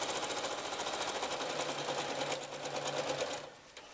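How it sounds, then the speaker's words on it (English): A sewing machine runs in a fast, steady rhythmic stitch while sewing the lining of an iPad case, close and continuous, then slows and stops near the end. "So I'm just going to sew this on,"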